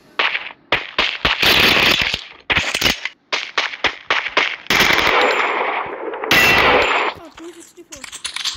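Double Vector gun firing in Free Fire, loud rapid bursts of crisp cracking shots. The bursts come in several strings separated by short pauses, with metallic clinks between them.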